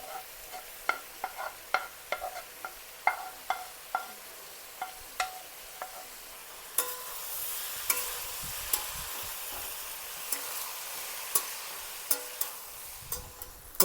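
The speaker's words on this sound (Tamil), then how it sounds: "ஃப்ரை பண்ண எக்கை இப்போ மிக்ஸ் பண்ணலாம்" A utensil scrapes and knocks rhythmically against a pan while fried egg is stirred for Indian-style egg fried rice, the regular clacks sitting over a soft continuous sizzle with no voices.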